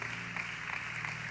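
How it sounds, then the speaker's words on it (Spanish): Applause from a church congregation during a Spanish-language Sunday service, a steady dense wash of clapping held at even level for a moment, with a faint hum beneath. "Dale un fuerte aplauso a Dios."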